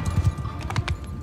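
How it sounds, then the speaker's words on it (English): A horse in the Mount and Blade 2 video game reacts to being hit by an arrow, a burst of loud close hoof clatter and thuds from the animal lasting about a second, with no talk. "Somebody just hit my horse with an arrow. That's what it sounded like."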